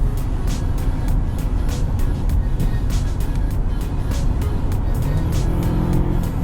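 Steady, loud engine drone of a 2006 Toyota Camry with 279,000 miles, heard from inside while accelerating, a continuous rumble with road noise and no clear pauses.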